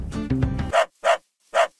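A dog in the video game Minecraft barks three times in an evenly spaced series, each bark short and clear, following a brief burst of other game sound.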